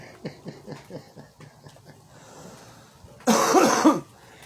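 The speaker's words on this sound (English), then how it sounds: "I really got to work on this cough." A man coughs in a quick string of short hacks, then breaks into one louder, harsher, drawn-out cough near the end, close and alone with no talking.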